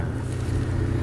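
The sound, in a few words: Nissan Terrano 2004 Z24 engine idling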